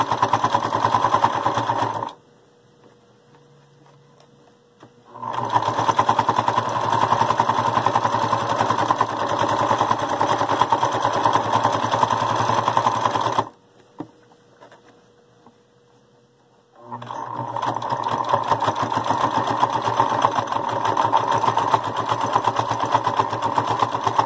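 A sewing machine stitches through thick, many-layered fabric for a bowl cozy, running loud and steady in two long bursts separated by short quiet pauses, with no one talking.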